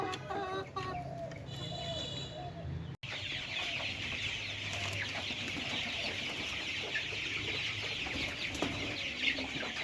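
Young layer chickens at 27 days old cluck and cheep in a dense, continuous flock chatter inside a poultry farm shed, heard close and steady throughout.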